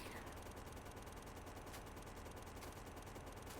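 Dense, continuous gunfire from regular ammo shot at attacking biters in the Factorio video game, a steady unbroken rattle that fills the whole stretch with no pauses.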